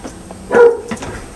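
A single short bark from a dog called Chance, close and fairly loud, with a faint trailing yip afterward against a quiet room.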